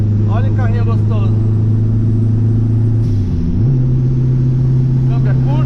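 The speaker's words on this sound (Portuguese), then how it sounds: "Estão ouvindo a turbina? Muito alta." A Fiat 147 turbo car engine drones loudly from inside the cabin, its steady hum dipping briefly as a gear changes before settling again. Someone talks over the engine at the start and near the end.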